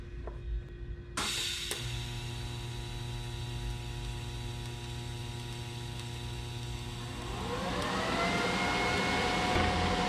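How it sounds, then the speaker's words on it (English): A TIG welder runs on stainless steel pipe with a steady, close hiss and hum that holds for the whole stretch and swells slightly toward the end, with no talking. "So let me weld this all the way through, and let's look at the colors once I'm done with it."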